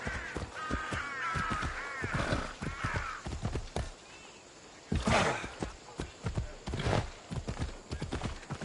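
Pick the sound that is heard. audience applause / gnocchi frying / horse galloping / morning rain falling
horse galloping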